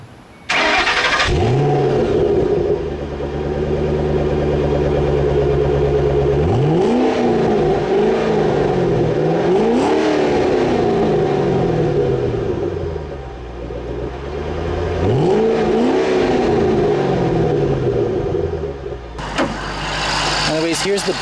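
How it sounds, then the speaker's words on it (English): A 2007 Ford Shelby GT500 convertible's supercharged 5.4-liter V8 idles with a deep burble, then revs up sharply several times, each roar rising and falling back to a rumbling idle, up close. "let's show you guys an exhaust clip."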